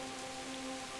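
Steady rainfall in the medieval game Kingdom Come: Deliverance, a continuous even hiss of drops on the ground with a faint tonal hum beneath, no voices.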